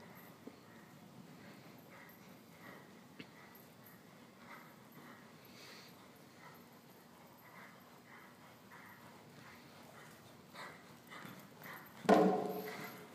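A horse's hooves clip-clop softly at a distance on an arena during gymnastic trot work over poles, a low steady patter ending with a louder thump.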